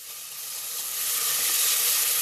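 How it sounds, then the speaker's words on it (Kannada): Chopped onions fry in a pan over a high flame, a continuous bright sizzle that swells gradually louder with no talking over it. "ಕಟ್ ಮಾಡ್ಕೊಂಡಿರೋಂಥ ಈರುಳ್ಳಿ ಸೇರಿಸ್ಕೊಳ್ಳೋಣ. ಚೆನ್ನಾಗಿ ಫ್ರೈ ಮಾಡಬೇಕು."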